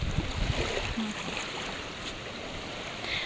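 Strong floodwater current of a swollen river rushing in a steady broadband wash, close and continuous with no voices.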